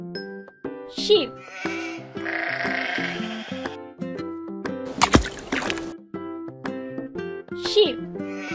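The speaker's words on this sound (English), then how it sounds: "Sheep." Sheep bleating in a children's animal-sounds sequence, a few loud close bleats rising over a busy, tuneful musical backing with an effects burst in the middle.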